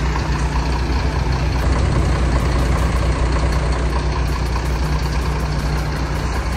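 A truck fitted with a new exhaust and badana idles steadily up close, a loud continuous low engine rumble with a constant pitch and no pauses.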